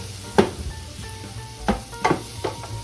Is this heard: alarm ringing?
no